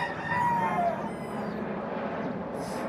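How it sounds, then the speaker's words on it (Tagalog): A rooster crows once in the distance, its call rising and falling over a steady outdoor background hum. "Pag tumitilaok ka manok"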